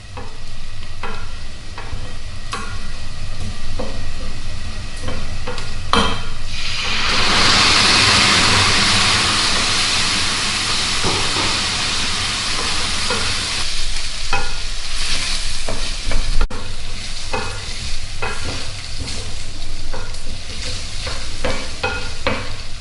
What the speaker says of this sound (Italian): sfumiamo con il vino bianco.